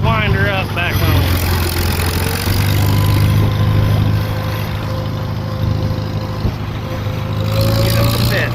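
A Farmall M tractor engine runs loud and close with a dense low chugging roar that holds steady, its pitch rising slightly as the throttle is opened, with faint whining tones above the rumble.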